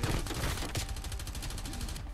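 Pistol gunfire in Call of Duty Black Ops Cold War, dense overlapping shots cracking in quick bursts, loud and close throughout with some sharper reports near the start and middle.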